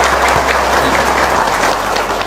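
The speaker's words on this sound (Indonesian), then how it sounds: "Kamu Kurang semangat tepuk tangannya." Audience applause at an Indonesian motivational religious talk, a dense, loud wash of clapping filling the whole stretch without a break.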